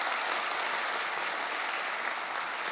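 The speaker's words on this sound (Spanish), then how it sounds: "Por favor, más aplausos para Carla." A crowd applauds steadily, a dense wash of clapping hands that holds at an even level throughout with no pauses.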